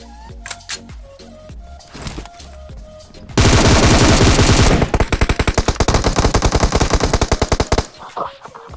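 Gunfire in a battle royale video game: scattered single shots, then a sudden loud sustained burst of automatic fire followed by rapid evenly spaced shots that stop abruptly, close and dominant.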